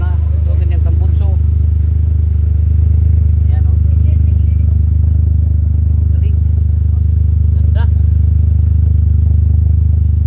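A car imported from Japan idles steadily nearby at a vehicle trading lot, a low continuous engine and exhaust rumble running under someone talking.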